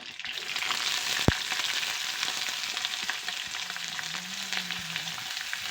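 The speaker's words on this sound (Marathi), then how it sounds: "त्याच्यामध्ये आम्ही बारीक चिरून घेतलेला कांदा टाकूया" Finely chopped onion fries in a pan with curry leaves for poha, giving a loud, continuous sizzle with a sharp tap of a utensil early on and light stirring scrapes, no voices.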